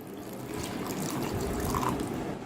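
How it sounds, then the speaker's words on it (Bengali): Water poured into ground spice paste of chili, salt and turmeric, a steady soft trickling splash running continuously at close range. "এবার পরিমাণ মতো জল দিয়ে দিচ্ছি।"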